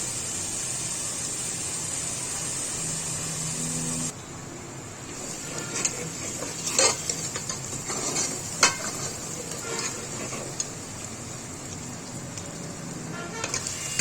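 An onion-like crushed ingredient, left coarse, fries in a pan on a stove and is stirred. A steady hiss runs throughout, joined after a few seconds by scattered scraping and clinking strokes.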